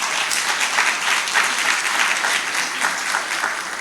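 An audience at an institute's 60th anniversary launch in Ghana gives sustained applause, a thick, even wash of many hands clapping in a hall with no gaps.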